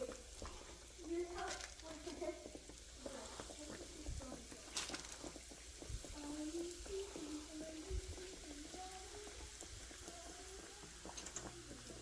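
Oil sizzles and crackles steadily as donut dough fries, with soft voices murmuring in the background.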